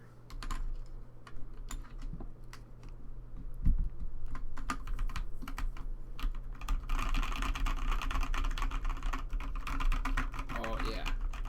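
Keys clatter on a Boardsource Mk 65 mechanical keyboard in Space Grey, a quick, uneven patter of clicky strokes close to the listener, speeding into a dense burst, with someone talking at times.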